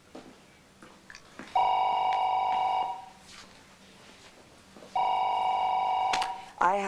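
Telephone ringing in two long electronic trills separated by a pause, fairly close and clear, with faint background sounds between the rings.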